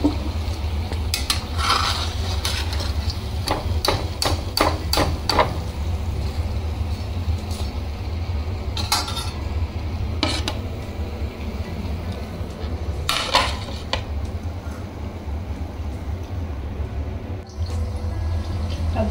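Freshly fried samosas are set out onto a plate, with scattered clinks and taps of dishes and utensils over a steady low background hum.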